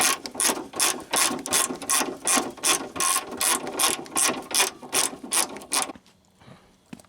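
A ratchet with a long 13 mm socket clicks rapidly and steadily up close, loosening the front bumper bolts on a Pontiac Grand Am, then stops abruptly, leaving near silence.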